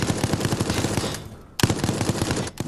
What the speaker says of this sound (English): keep them distracted with the liquor while I lay down the suppressing fire